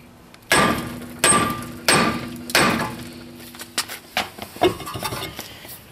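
Honda Accord rear brake rotor being driven loose by hammer blows on a big metal drift, four loud evenly spaced metallic strikes followed by a flurry of quicker, lighter taps.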